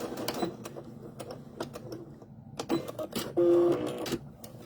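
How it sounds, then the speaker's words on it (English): A sewing machine back-stitches along fabric while making a wrist key holder, with short bursts of clattering stitching, a steady whirring run near the end, and small handling clicks in between. "I'm just going to back stitch and go to the end and back stitch again"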